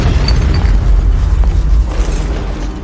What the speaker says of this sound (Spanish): Vamos a crear una distracción con una explosión.